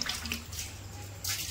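Water poured and splashed over a sulcata tortoise during a wash, a short soft splashing that swells again at the end, with no one talking.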